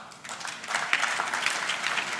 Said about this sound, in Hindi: उसकी अतिरिक्त ताली थी